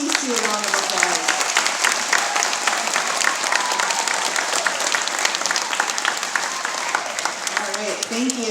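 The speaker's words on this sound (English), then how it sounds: "Let's give him a big round of applause, a big TC round of applause." An elementary school audience at a Veterans Day program applauds steadily, dense clapping filling the room at a constant level from start to end.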